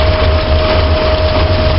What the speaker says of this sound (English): with the vacuum leak gone, we're idling at about 400